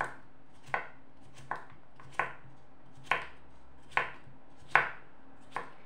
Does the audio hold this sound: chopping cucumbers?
yes